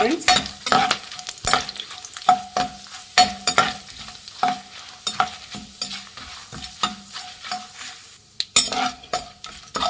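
Chana dal and Byadgi chilies frying in hot oil for cabbage palya, with a close, loud sizzle and repeated rhythmic stirring scrapes and knocks against the pan, no talking.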